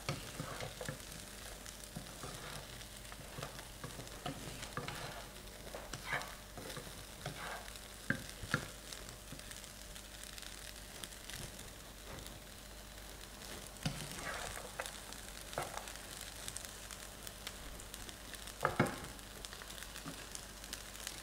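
Pineapple fried rice with spring onions is stir-fried in a hot pan or wok: a steady close sizzle runs throughout, broken by scraping stirs and a few louder clanks of the utensil against the pan, with no talking.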